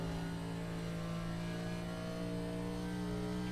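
A race car engine in a Daytona racing video game drones steadily in fourth gear at high revs, a constant close tone that neither rises nor falls, with no talk.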